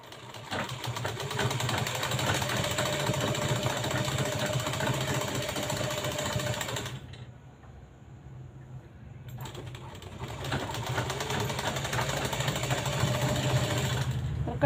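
A sewing machine whirs steadily while stitching lace onto a puff sleeve, running loud and close, pausing briefly midway before starting up again.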